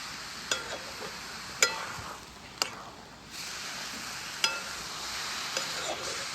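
A fresh grated coconut barfi mixture simmers in milk in a pan, a steady soft sizzling hiss broken by a few sharp spoon taps and scrapes as it is stirred.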